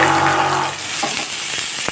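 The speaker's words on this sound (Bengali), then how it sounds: "কাঁচা লঙ্কার সুন্দর গন্ধ বেরোতেই এখন দিয়ে দেব সিদ্ধ করা লাউয়ের খোসার" Boiled bottle gourd peel pieces fry in hot oil, giving a loud, dense, steady sizzle that eases slightly and is broken by a few stirring clicks toward the end.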